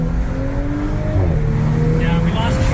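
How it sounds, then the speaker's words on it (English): A tuned B9 Audi S5 with a Stage 2 ECU/TCU tune accelerates hard, its engine roaring close and loud as the tires spin, with voices talking over the noise. "The tires literally spun."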